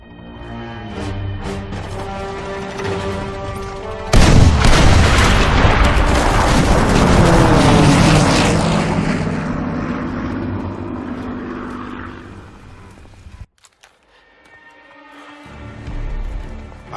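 Bombers hitting targets in the World War II shooter Call of Duty WW2: a sudden heavy blast swells into a long rumbling roar with engine drone, fading away before another low rumble returns near the end.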